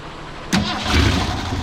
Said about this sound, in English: And we're gonna crank it up.